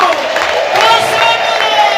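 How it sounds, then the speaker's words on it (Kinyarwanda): A large crowd clapping and ululating together in a dense, sustained wash of applause and high trilling cries, loud and continuous. "tuyihereze amashyi n'impundu"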